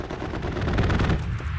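Rapid machine-gun fire from a strafing run in an online multiplayer shooter, a dense, continuous rattle of shots at close range with no voices over it.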